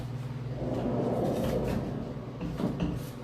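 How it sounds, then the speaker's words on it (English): A barn-style sliding door in a house rolls along its track with a low, steady rumbling slide lasting a few seconds, ending in soft bumps. "They put a barn sliding door."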